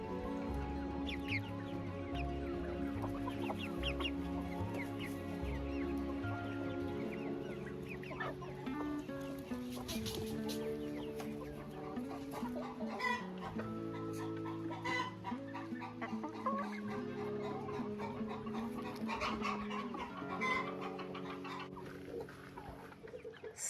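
A brooding hen and her big chicks clucking and cheeping in a backyard coop, a steady overlapping chorus of clucks and peeps close by, with no talk.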